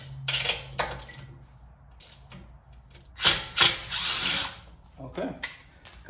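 Wheel studs are removed from a BMW F10 535i with tools: ratcheting clicks and a short whirring burst, followed by metallic clinks, close by, with some faint background voice.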